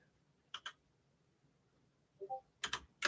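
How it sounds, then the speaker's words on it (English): Typing on a computer keyboard, faint close clicks arriving in a few short bursts of keystrokes with quiet pauses between them. "Let me type that in."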